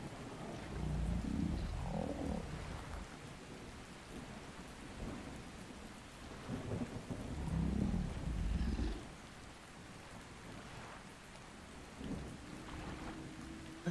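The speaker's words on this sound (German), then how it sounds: "Wird das Wasser ein bisschen aufgewirbelt durch den Regen?" Rain and thunder in the video game ARK: Survival Ascended: steady rainfall hisses throughout while several deep, rolling thunder rumbles swell and fade.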